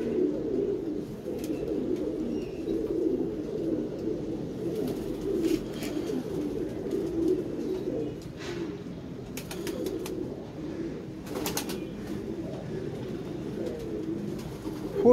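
Pigeons coo in low, repeated throaty bursts, moderately close, with a few brief sharp noises breaking in partway through.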